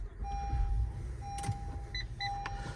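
A 2023 Honda Passport Elite switched on with the brake pressed: a steady electronic chime tone over low cabin rumble, with a brief whirring motor burst and a few short paired beeps near the end.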